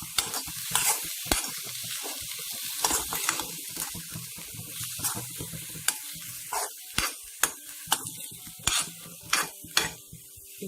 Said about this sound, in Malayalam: നമുക്ക് ഒന്നുകൂടി നന്നായിട്ട് ഇളക്കിയെടുക്കാം.